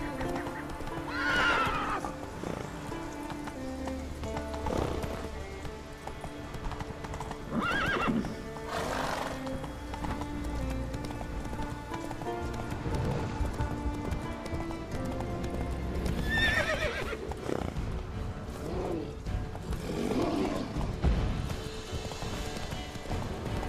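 Roach the horse gallops in The Witcher 3, rhythmic hoofbeats clopping along with loud neighs and whinnies breaking out at intervals.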